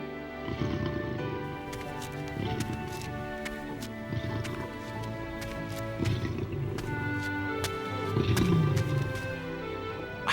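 Cartoon lions in a den, several roars and growls with hoof-like clops and music-like tonal layers, moderately loud and continuous throughout.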